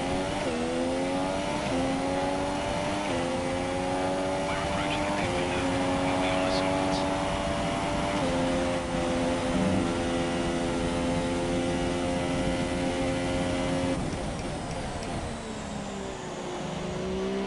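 Formula 1 race car engines in the F1 2017 video game whine continuously at high revs, pitch stepping through gear changes, loud and steady, with someone talking over them throughout.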